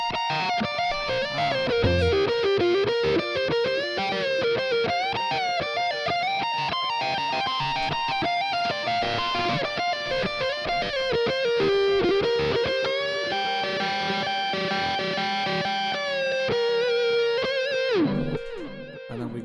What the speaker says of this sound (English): I'm using the Blue Angel Gnarly lead sound